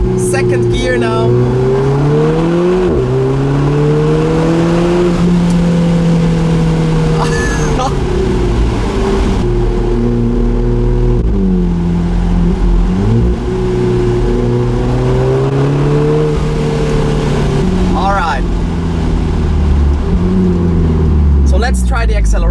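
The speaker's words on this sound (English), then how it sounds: "so we're in second gear now with this incredible noise" Alfa Romeo 4C Spider engine pulling hard in second gear, a loud, steady rising drone that climbs in pitch across several pulls with brief dips at shifts, with people talking over it throughout.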